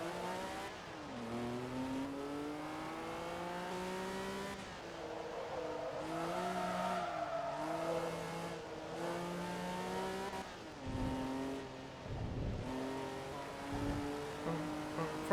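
A turbocharged rally car in a video game held at high revs, its engine note climbing and dropping through repeated gear shifts, loud and continuous with no voices.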